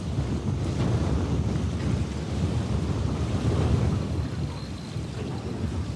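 Strong wind buffets the microphone outdoors on a kingfish fishing trip, a dense, loud, steady roar with gusty swells that fills the whole stretch and carries no speech.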